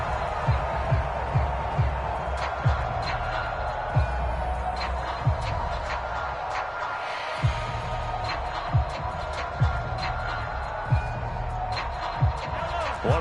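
A stadium crowd in a football video game roars steadily in the background, a broad continuous din with periodic thumping beats, while a commentator talks over it throughout.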